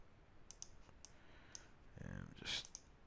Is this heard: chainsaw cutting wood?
no